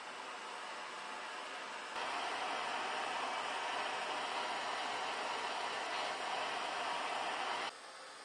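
A homemade water distiller with 11 and a half feet of copper tubing and its burner on full blast gives a steady, broad hiss and hum. It gets louder at about two seconds, holds level, then drops back near the end, with no talking.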